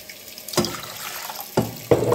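Water poured into a casserole in a home kitchen, heard in three short splashing gushes separated by quiet pauses, close and with no talk.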